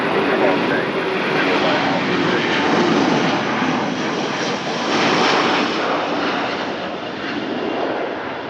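Airbus A330 airliner departing at Lisbon Airport: a steady, broad jet engine roar that stays loud and full throughout, swelling slightly midway, with radio chatter faintly underneath.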